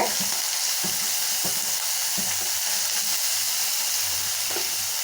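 Chopped onions, ground green chili, coriander and curry leaves sauté in a pan for carrot paniyaram, a bright continuous sizzle with rhythmic scraping stirs close by, no voices.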